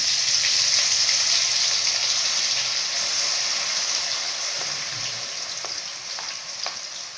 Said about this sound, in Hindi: ई प्याजके पीस कऽ दऽ रहल छी मसाला। आ भूजै छियै।